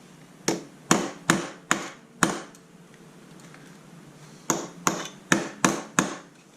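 A hammer strikes the lip of a castellated nut into a bevel on a Honda Spada VT250FL motorcycle clutch, with five sharp metallic blows at a steady pace, a pause, then five more.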